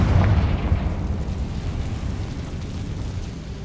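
A Confringo fire spell in Hogwarts Legacy explodes in a loud, booming burst, its low rumble swelling at the start and then fading slowly into a sustained roar.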